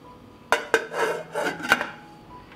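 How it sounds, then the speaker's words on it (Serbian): Several sharp metallic clinks and a scraping rattle, like a metal lid being set and shifted on a pot, close by. "Poklopit ću šerpu"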